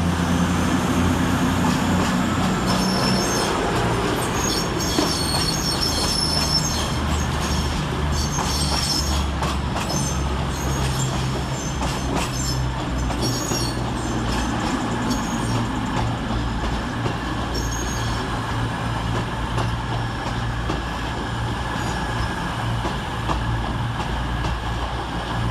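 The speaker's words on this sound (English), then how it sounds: "Next out to depart for cross country is 221132 and 220013" CrossCountry trains 221132 and 220013 pull out of Wolverhampton station with a steady low diesel rumble, rolling wheel noise and occasional high squeals and clanks, continuous and fairly close throughout.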